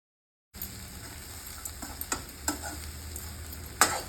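Puffed rice goes into a hot pan and is stirred for murmura upma. After a brief silence comes a steady sizzle with intermittent scraping strokes, then a sharper clack of the spoon against the pan near the end.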